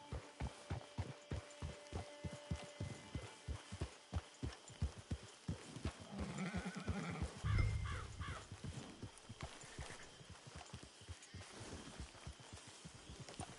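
Horse hooves clip-clop in a steady rhythm through a Red Dead Redemption 2 game scene, with a brief neigh or whinny in the middle before the hoofbeats carry on, close and moderately loud.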